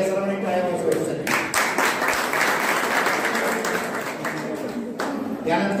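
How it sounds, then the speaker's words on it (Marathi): Audience applause at a degree certificate ceremony, a continuous bed of clapping from many people that carries on steadily while a voice talks over it. "सर्वांनी टाळ्या वाजवायच्या."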